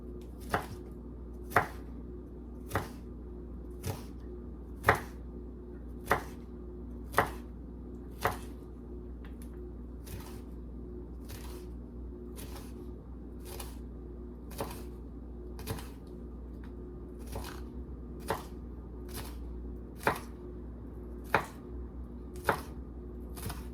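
Serrano pepper and onion are chopped finely with a knife for shrimp ceviche, crisp evenly spaced strikes on a cutting board, about twenty in a steady rhythm, close and clear over a quiet background.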